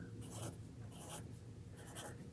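Three short, breathy hissing sprays of wood stain from a spray-nozzle bottle, spaced about a second apart, close by over a low background rumble.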